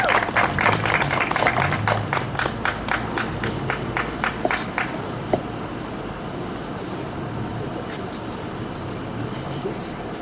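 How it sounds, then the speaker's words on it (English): Audience applause at a community speak-out event in Nyack as Pastor Washington comes up, a burst of crowd clapping that fades out about halfway through, leaving low room noise and faint voices. "let's give him a round of applause for coming up here"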